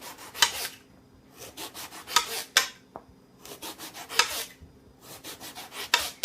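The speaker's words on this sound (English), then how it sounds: "I'm just gonna slice this up." A kitchen knife slices through an eggplant into half-inch rounds on a board, giving soft rasping cuts in short bursts of about one to three strokes, each separated by brief pauses, with no talking over it.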